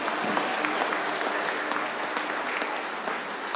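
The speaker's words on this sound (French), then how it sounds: "Levez-vous, pasteur Musset, et cela avec l'applaudissement et les prières de l'Assemblée" A church congregation at a Haitian Baptist service in Boston applauds, with dense, sustained clapping continuing at an even volume throughout.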